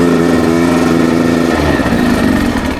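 A motorcycle engine runs loud and close on a steep uphill trail, holding a steady, rough mid-pitched drone throughout with no voices.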